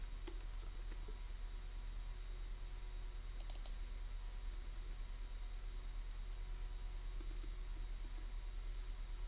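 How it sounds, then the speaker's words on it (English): Fingers type steadily on a computer keyboard, with soft irregular key clicks and a few brief bursts of faster clatter over a low constant hum, fairly quiet and close, with no talking. "Let's type in the President Joe Biden."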